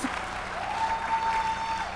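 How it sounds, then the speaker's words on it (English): A crowd claps steadily in sustained applause at a political conference speech, a dense even patter throughout with a faint tone beneath. "That is worth applause."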